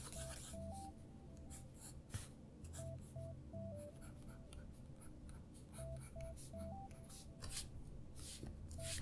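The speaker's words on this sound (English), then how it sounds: "I'll try drawing one that's from a different angle" Pencil sketching a creature in a sketchbook, continuous close scratching and rubbing strokes with brief louder scrapes, over quiet background music with a repeating melody.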